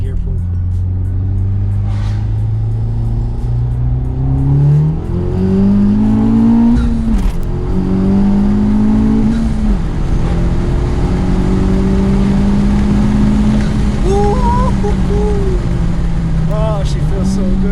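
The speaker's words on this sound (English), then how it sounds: "I'll do a second gear pull." A Honda Civic Type R with Acuity bushings pulls hard in second gear, its engine note climbing steadily before a quick shift and renewed rise, loud and close from inside the car, with a voice speaking over it.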